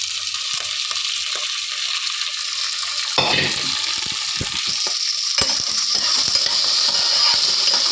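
Okra sizzles steadily in a hot pan with a bright, hissing fry, broken by a few scraping stirs of a spatula against the metal as the frying swells louder midway.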